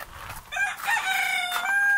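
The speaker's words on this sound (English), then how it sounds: "Well, you can hear the rooster going off there." A rooster crows once on a rural bush homestead, a clear mid-distance cock-a-doodle-doo with a long held final note over faint outdoor background.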